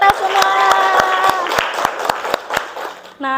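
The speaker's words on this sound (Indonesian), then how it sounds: "Oke, tepuk tangan untuk kita semua." Classroom of students clapping together, with sharp, irregular claps over a sustained sung or hummed tone, then a brief sound at the end.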